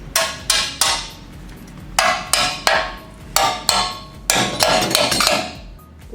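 A hammer strikes a chisel to chip plasma-cut weld remnants off the steel frame of a third-generation Toyota 4Runner, a run of about a dozen sharp metallic clangs in irregular clusters, close and loud.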